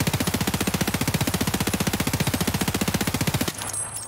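Sustained full-auto fire from an R37.F submachine gun in Escape From Tarkov, a rapid, evenly spaced stream of loud close shots for about three and a half seconds, then a brief quieter tail after the burst stops.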